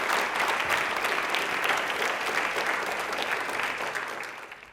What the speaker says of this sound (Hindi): तालियां प्लीज अपने लिए एक बार जोर बजा दीजिए